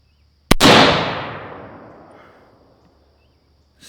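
A PSA PA-10 Gen 3 rifle fires one loud close shot with a long rolling echo that fades over about two seconds outdoors, followed by a faint start of another sound at the end.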